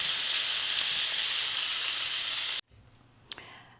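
Salmon sizzles steadily in a hot pan as a stuffed salmon recipe cooks, a bright, even hiss that cuts off abruptly, followed by near silence and a faint clink.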